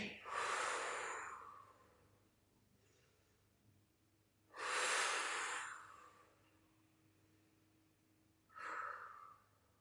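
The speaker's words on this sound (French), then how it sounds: "Inspirez, expirez. On va rester là pour 6 cycles de respiration." Deep, slow breaths during a plank core exercise: three loud, close exhalations rush out several seconds apart, with quieter inhales and stillness between them.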